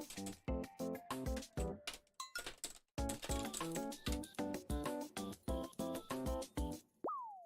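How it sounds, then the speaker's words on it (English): Computer keyboard typing, rapid bursts of crisp clicking keystrokes in close irregular runs with brief pauses, heard alone, ending with a short falling electronic tone. "I'm typing."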